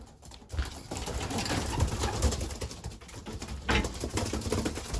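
Pigeons coo in a young bird loft, soft, low, repeated calls with some rustling and fluttering nearby.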